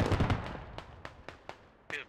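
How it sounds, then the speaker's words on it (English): A BMP fires in the video game Squad: a cluster of sharp bangs at first, then single reports spaced unevenly every quarter second or so, moderately loud. "Raph's taking shots from that BMP"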